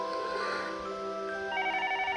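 A telephone rings downstairs in the video game Higurashi, a steady electronic trill with a shift to a brighter pulsing tone partway through, moderately loud against soft game music and no speech.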